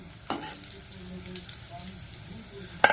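Vegetable chops sizzling in hot oil, a soft steady frying hiss with a few faint clinks of a utensil and one sharp tap near the end, heard under quiet background talk.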